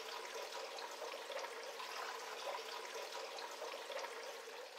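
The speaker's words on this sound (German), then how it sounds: "Einfach ein paar Mal drücken und der Filter beginnt sich mit Wasser zu füllen." Water steadily fills a Tetra EX 800 Plus external aquarium filter after its primer button is pumped, a continuous close trickling and rushing flow that stays even and unbroken throughout.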